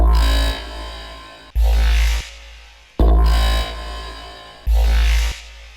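Recreated Yoink synth from Rusko's Everyday, a loud bass-heavy dubstep synth that hits four times in a repeating stop-start pattern, each burst sweeping bright and then cutting off abruptly, with no voices.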